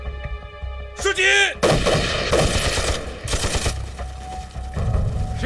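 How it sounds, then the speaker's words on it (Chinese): Loud gunfire in an anti-Japanese war film: close, dense bursts of shots and rapid fire crack out one after another and fill the whole scene. "好像是鬼子开的枪"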